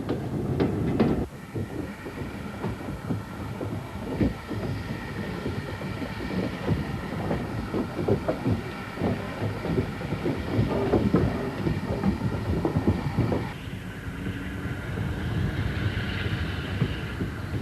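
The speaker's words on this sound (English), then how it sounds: "The afternoon trains are arriving and departing now, and everything is running to time." A steam train rumbles and clatters along the rails of a busy heritage railway at steady length, with rhythmic clicking and a rising hiss near the end.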